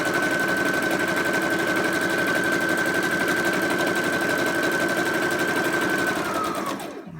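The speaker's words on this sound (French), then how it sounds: "Alors, je fais la couture ici en droite." Sewing machine stitching a straight seam on a child's fabric face mask, a loud, steady rapid whir running continuously for about seven seconds before slowing and stopping.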